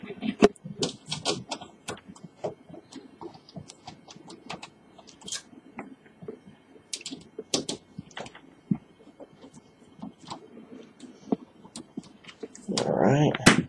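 A screwdriver works the screws out of a computer power supply, giving a scattered run of sharp clicks, ticks and metallic taps at close range, with short quiet gaps between bursts.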